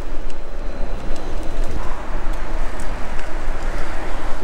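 Warm, gusty wind outdoors on a city street during a food delivery ride rumbles heavily and loudly into the microphone as continuous buffeting noise, with no speech over it.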